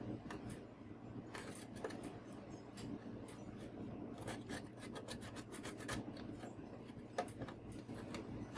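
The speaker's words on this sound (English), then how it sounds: "I also have to grate up this ginger real quick" Fresh ginger grated against a grater in a home kitchen, a steady run of close, rhythmic rasping strokes repeated throughout with no talk.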